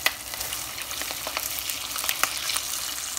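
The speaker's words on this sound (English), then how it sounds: "We're gonna just lay it in this vegetable oil and let it do what it do." Grit cakes laid in hot vegetable oil sizzle and crackle steadily, with sharp spitting pops scattered over a continuous close frying hiss.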